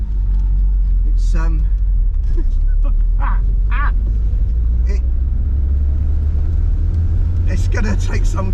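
An original Porsche Carrera GT being driven, a deep steady engine rumble under wind and road noise, while someone talks intermittently over it from inside the car.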